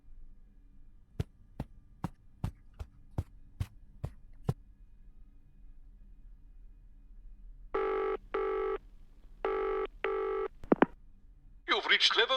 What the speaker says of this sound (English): I suppose I should phone him now